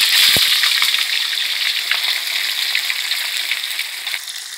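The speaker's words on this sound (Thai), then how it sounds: "ตั้งน้ำมันเลยนะคะแล้วก็ใส่ปลาหมอทุ่งลงไปเลยค่ะ" Sun-dried climbing perch frying two at a time in fresh oil over medium heat, a loud, close, unbroken roar of bubbling sizzle that eases slightly toward the end.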